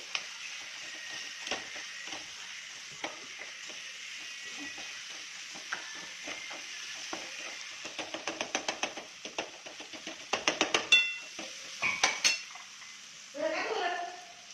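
Cooked vegetables for pav bhaji are mashed in a pot, with repeated clinks and thuds of a metal masher, sparse at first and then coming in quick bursts, while a faint sizzle carries underneath and a voice speaks briefly.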